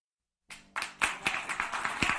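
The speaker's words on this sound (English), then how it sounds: "the group clapped" A small group claps together after an old crooning song ends, starting abruptly with scattered, uneven hand claps that build into steady applause, close and alone.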